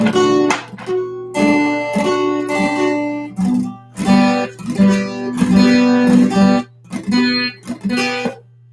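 Guitar chords are strummed and let ring in a steady rhythm, several changes in a row, played close and alone without any talking.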